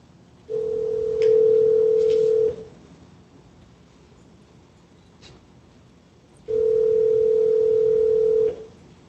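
A steady telephone dial tone sounds in two long, even bursts of about two seconds each, separated by a quiet gap, during an unanswered call, with faint room noise in the background and no talking.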